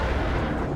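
Dense low rumbling blast from a Morph Ball bomb exploding near a boss's feet in Metroid Prime 3: Corruption, a broad steady roar filling the short moment with no talk.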